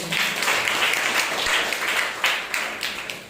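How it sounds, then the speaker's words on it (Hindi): Applause from a church congregation during a Sunday morning service, a dense wash of clapping that swells and holds steady for a few seconds, fairly close and filling the room. "जोरदार ताली बजाइए।"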